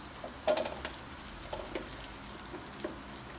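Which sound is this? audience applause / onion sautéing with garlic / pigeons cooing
onion sautéing with garlic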